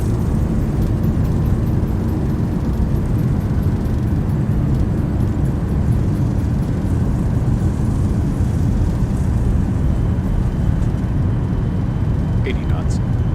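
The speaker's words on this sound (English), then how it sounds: "Reversers, nose down gently." Airliner reverse thrust roaring during landing rollout in the X-Plane 11 flight simulator, a loud continuous broadband engine rumble that holds steady throughout, close and dense with no clear speech.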